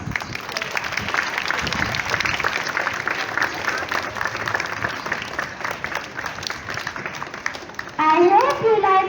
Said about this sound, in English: Let's give them one final big round of applause.